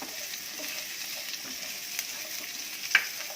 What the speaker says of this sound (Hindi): प्याज को भी तकरीबन 1 मिनट तक भूनेंगे।